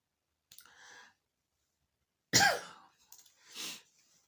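Three separate coughs, the second loud and harsh, the others lighter, with short quiet gaps between them.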